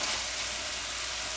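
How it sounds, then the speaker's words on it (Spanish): Beef cut into thin steak-style pieces fries in a hot pan for an oriental-style meat and vegetable dish, a steady close hiss of sizzling with no speech. "corte de carne que estoy utilizando se fríe, se cocina bien rápido"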